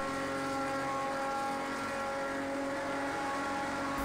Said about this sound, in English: the 71 sports cars look, feel, and sound great for the most part